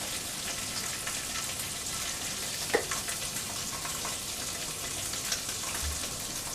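Bologna fries in a pan with a steady, quiet sizzle and crackle, broken by a few faint clicks and light pops.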